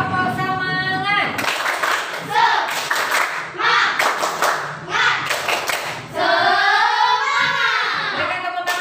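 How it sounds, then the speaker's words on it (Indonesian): Schoolchildren in a classroom clap together in short, rhythmic bursts of near, loud claps, with a teacher's voice speaking between and around the clapping. "Berikan tepuk tangan untuk kita semua."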